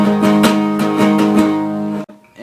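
Electric guitar strums a rhythmic pattern of barre chords in a song, with steady repeated attacks under sustained ringing tones, ending in a brief stop and a faint pick noise.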